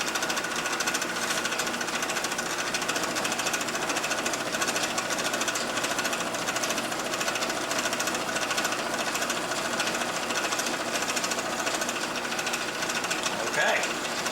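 A gear-cutting machine cuts teeth into a small protractor fine-adjustment gear, giving a loud, continuous, dense metallic grinding and chattering that runs unbroken throughout, up close.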